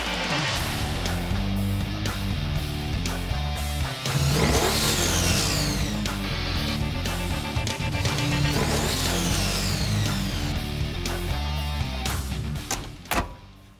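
A restored classic car engine revs up repeatedly, rising and falling in pitch with a steady idle between bursts, close by and loud, ending with a brief clunk.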